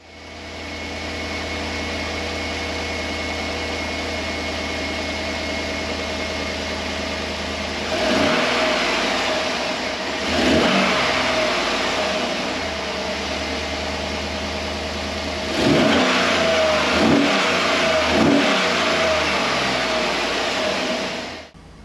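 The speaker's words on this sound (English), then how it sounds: "Let's fire this thing up, see what it sounds like with the new headers." A 2011 GMC truck engine fitted with new shorty headers rumbles steadily at idle, then revs up in several loud bursts that fall back to idle, with no voices.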